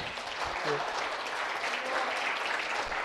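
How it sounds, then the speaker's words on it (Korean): Applause from an audience at the close of a Truth Forum lecture at Seoul National University, dense and even clapping filling the room for about three seconds, with a faint voice briefly underneath. "선배님 큰 박수 한번 부탁드리겠습니다"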